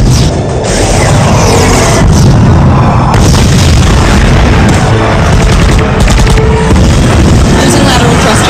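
Torpedo explosions in a sci-fi space battle: a loud, continuous wall of booming blasts and rumbling bursts, densely layered and saturated, with voices faintly mixed in.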